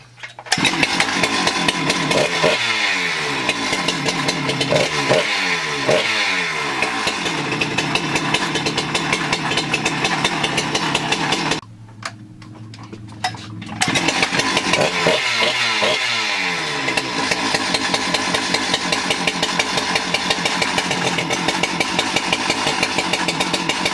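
Rebuilt Husqvarna 394xp chainsaw engine running loud and close, a steady rough buzz with rev swells, dropping briefly to a lower idle near the middle before picking back up.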